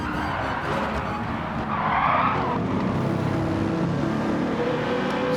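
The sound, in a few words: race car spinning off track in a racing video game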